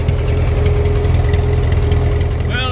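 Tractor engine running loud and close with a steady low idling rumble and knocking pulse, a voice briefly rising near the end.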